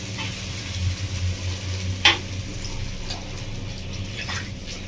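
Water poured into fried masala in a pan for Bengali village-style doi katla sets off a steady sizzle and bubbling, with a brief splash and light stirring clinks, close and moderately loud.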